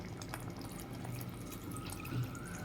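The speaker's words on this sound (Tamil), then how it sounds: "இப்போ முள்ளங்கி வேகிறதுக்காக இதில் நம்ம தண்ணி சேர்த்துக்கலாம்." Water pours and trickles into a cooking pot of radish pieces for a green gram curry, a low continuous splashing with faint drips, fairly quiet and without voices.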